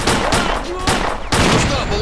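Heavy automatic gunfire in the S.T.A.L.K.E.R.: Clear Sky shooter game, loud and close, rattling in two dense bursts with a short gap between them.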